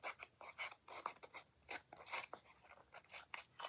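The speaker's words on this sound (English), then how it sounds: "This is a nail file I have that has a pretty coarse side on it." A coarse nail file rasps against the edge of a playing card in quick, faint scraping strokes, irregular short bursts close up, with no talking.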